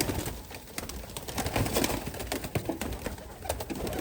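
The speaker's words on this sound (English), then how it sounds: "Pigeons are adorable birds." Pigeons coo on a farm, several birds calling in soft overlapping bursts close by, with a steady rustle of movement and scattered sharp flutters throughout.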